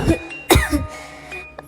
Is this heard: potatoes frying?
no